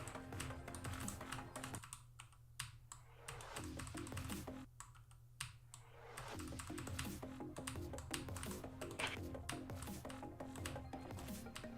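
Rapid, steady typing on an off-brand computer keyboard, the clacks dense and continuous at close range with two brief thinner stretches, no talking over it.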